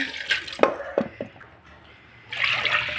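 Water is poured onto toor dal in a pot while making sambar, giving a splashy rush that fades, then a second louder pour near the end, with a few small knocks between.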